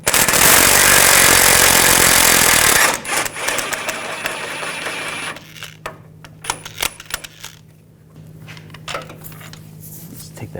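A 15mm socket working the lower front engine mount bolt loose from underneath a 2014-2018 GMC Sierra 5.3L V8, with a loud harsh mechanical burst for about three seconds, then scattered metallic clinks and taps.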